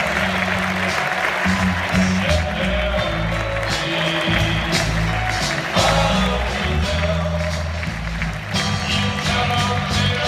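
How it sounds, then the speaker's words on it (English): A live studio audience applauds steadily for the cast of a comedy show, dense clapping and crowd noise filling the whole stretch under a low musical bed. "Keep clapping so I can walk away."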